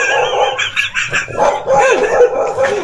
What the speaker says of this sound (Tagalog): Aso lang yun eh.